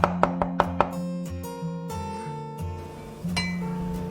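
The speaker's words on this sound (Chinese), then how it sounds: "把泡好的香菇切末" Soaked shiitake mushrooms are chopped fine with a knife, giving a quick burst of five crisp, close taps on a board, then a few scattered knocks under a steady low hum.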